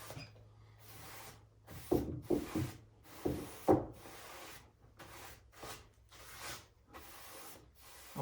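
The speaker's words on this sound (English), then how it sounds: "Let's give it a brush down here." Brisk brushing strokes scrubbing across a wooden DIY American flag, a series of short, close, rough scrapes in uneven rhythm with quiet gaps between, no speech over them.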